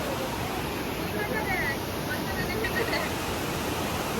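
Rushing river and waterfall along the Rihang river near Darjeeling, a steady broadband roar of water that fills the whole clip without pause, close and constant.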